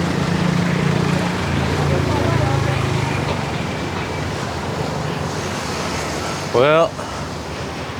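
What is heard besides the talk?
wind blowing outdoors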